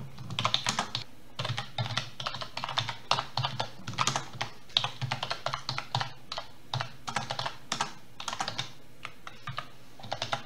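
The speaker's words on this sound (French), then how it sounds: "je vais simplement taper un titre" Rapid, irregular clatter of keys on a computer keyboard while a title is typed on a Windows PC, the keystrokes coming close and steady for about ten seconds with no speech.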